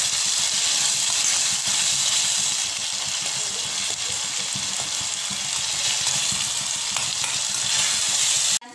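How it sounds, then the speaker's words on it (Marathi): Green peas fry in hot oil for matar paneer, giving a loud, continuous close-up sizzle with faint stirring underneath and no voices. "थोडे मटर घालूया तेलामध्ये, चांगली परतून घेऊ।"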